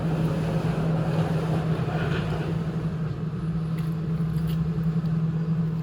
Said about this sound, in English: The breeze is killing me right now.